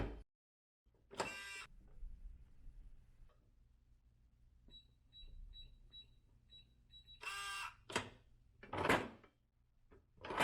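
A SafeLogic Direct Drive electronic safe lock is tested, giving repeated short motorized whirs and clicks with a string of quick electronic beeps between them, close and fairly quiet in a still room.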